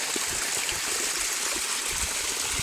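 Irrigation water flows through a farm field in a steady, close rushing and trickling wash that continues without a break.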